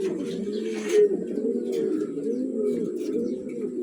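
Racing pigeons coo continuously at close range, their soft repeated throaty calls overlapping in a steady murmur.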